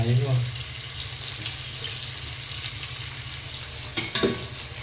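Green chillies and chopped garlic are stirred as they fry in a pan, giving a low, steady sizzle under a faint hum, with a brief clatter of the utensil near the end.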